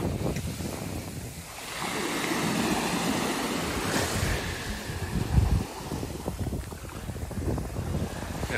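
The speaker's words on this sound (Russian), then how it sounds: "Морюшка любимое." Sea waves wash onto a pebble beach in Antalya, Turkey, a broad steady roar with gusts of wind buffeting the microphone and a brief louder surge midway, no talk.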